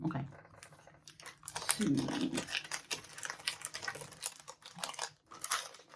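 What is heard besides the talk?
rustling of craft advent calendar packaging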